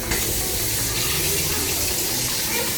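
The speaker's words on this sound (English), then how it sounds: "So I'll pour hot water." Hot water pours steadily from a kettle onto dry fish with salt in a bowl, a continuous close splashing gush for a few seconds with no talking.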